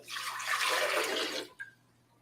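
Spring water pours for about a second and a half in a bright, splashy rush, then stops, followed by one faint clink, with no talk.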